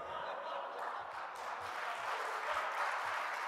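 Steady audience applause at a live debate event, a dense wash of many hands clapping at even loudness throughout, with no clear talk over it.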